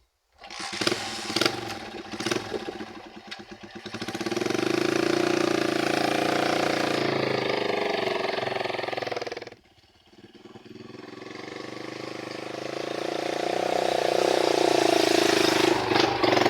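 A motorcycle engine sputters through a few start attempts, then catches and revs steadily, briefly drops off, and climbs again as it is ridden off toward a nutmeg garden, loud and close throughout.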